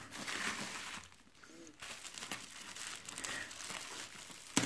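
Packaging around a 1:18 scale Toyota Highlander 2015 model car being cut open, faint crinkling and crackling of plastic and cardboard with a brief quiet pause and a small knock at the end.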